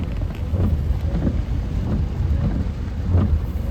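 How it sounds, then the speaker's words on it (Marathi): Steady, dense rush of heavy rain with rumbling low-end noise, continuous and fairly loud throughout, no voices. "फुल जोरदार पाऊस चालू आहे"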